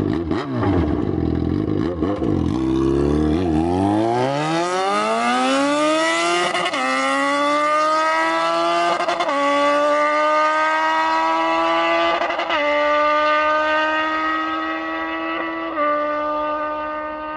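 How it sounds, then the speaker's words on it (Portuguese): Yamaha XJ6 motorcycle on a long downhill road, heard from afar as the engine climbs through several gears, each rising whine cut by a brief shift before the steady high rev tapers off. "vou subir com a moto só pra vocês verem o barulho que é ela de longe nessa descida aqui"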